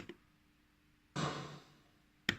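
A single gunshot sound effect drenched in heavy reverb: one sharp, loud burst that blooms into a long, washy tail lasting over a second, with a quieter click near the end.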